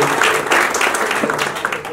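Applause rises from an audience welcoming a visiting swami at a Jain journalists' association animal-welfare discussion meeting, a dense steady clatter of clapping lasting throughout with faint voices mixed in.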